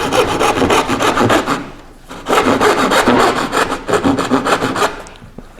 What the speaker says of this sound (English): then it's just a matter of cutting it out. So I take my dovetail saw